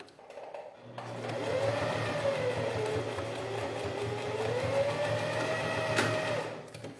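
A sewing machine stitches a seam on a necessaire, a close, continuous motor whir with a fast mechanical chatter that starts abruptly and runs steadily for several seconds before stopping.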